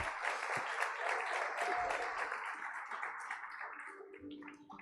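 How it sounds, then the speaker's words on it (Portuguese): Applause from a congregation at a women's church conference, a broad steady wash of clapping that holds for several seconds, then thins and fades near the end with some murmuring voices. "Uma salva de palmas para Deus."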